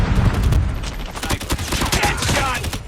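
Rapid bursts of automatic gunfire from Call of Duty Mobile Season 6, played on a Mekotronics Rockchip R56 Android TV box, crackling densely and continuously at close range with no voices over it.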